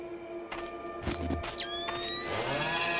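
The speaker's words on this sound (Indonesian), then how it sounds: "Kayak ada suara orang gerinda anjir" A grinder whirs inside a hospital in the horror video game Mental Hospital VI. A whining, pitch-sweeping machine tone rises and slides against a steady hum, with a few sharp clattering bursts, at moderate volume.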